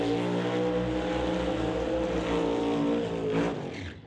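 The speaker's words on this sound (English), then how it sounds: "Side-by-side smoky burnouts from your next pair." A pair of drag race cars do side-by-side smoky burnouts at a drag strip, making a loud, sustained roar of engines at high revs that holds steady before easing slightly at the end, with no talking.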